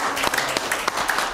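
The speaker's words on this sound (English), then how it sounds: "You can give the Lord a hand clap." A church congregation at a Sunday service claps together in a brief, steady ripple of applause, moderately loud, with a few sharper individual claps poking through.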